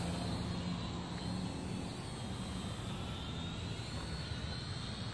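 A Top Race TR-Q511 RC aircraft flies outdoors with a constant high, buzzing motor whine that holds steady and fairly faint throughout, with no voices.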